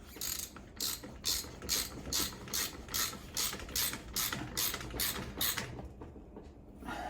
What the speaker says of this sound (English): Sometimes this is easy to do with a ratchet because you can keep downward pressure on it.